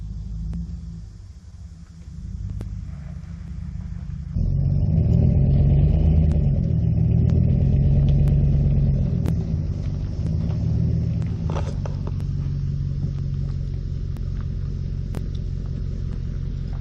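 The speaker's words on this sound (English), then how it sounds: "there goes the Chevy Sonic" A Chevy Sonic sold at an insurance auto auction pulls away: a steady, loud low engine rumble rises sharply a few seconds in and holds, with the car rolling along nearby.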